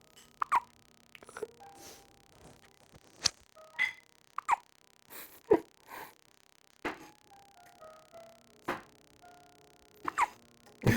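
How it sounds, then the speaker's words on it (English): A nine-day-old newborn baby hiccups softly, a series of small, irregular hiccup sounds spaced a second or two apart, close and quiet with light background noise and no talking. "Man, your hiccups are so cute."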